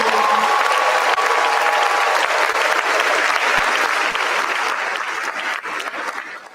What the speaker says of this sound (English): Please don't let the applause die down.